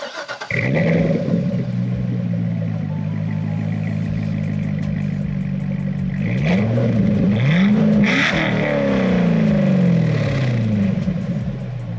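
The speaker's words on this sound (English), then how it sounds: "The LS motor in this car just sounds excellent, and that performance exhaust really helps bring out that sound" A C6 Corvette's LS V8 revs hard through a performance exhaust with its butterfly valves locked open. The loud, close engine swells and falls in repeated throttle blips over a steady rumbling idle, with no talking.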